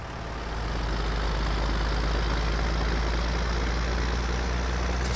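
Simulated John Deere 2x50 tractor engine idling in Farming Simulator 19, a deep, constant low rumble with steady mechanical drone, swelling slightly in the first second and then holding even, with no talk.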